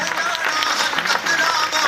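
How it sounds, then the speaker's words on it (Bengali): An audience at a product training event on supplements breaks into sustained applause, dense clapping filling the room for the whole stretch. "একটা জোরদার হাততালি হোক, জোরদার হাততালি।"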